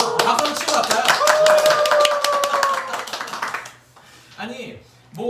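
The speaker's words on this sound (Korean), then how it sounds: "박수 치고 갈까요?" A studio crowd or host claps hands during a Korean live mobile shopping broadcast, a burst of sharp repeated claps lasting about three seconds with a voice speaking over and after it.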